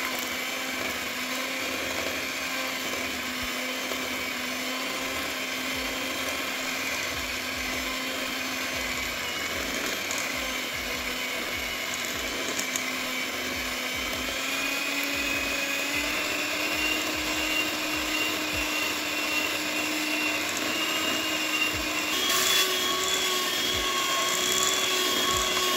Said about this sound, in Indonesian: Kemudian kita kocok sampai tercampur rata dan mengembang.